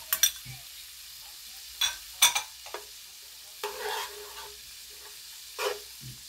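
Tilapia frying with chopped garlic, garlic margarine and a can of coconut milk in a pan, with scattered stirring scrapes and brief bursts of sizzle between quiet stretches.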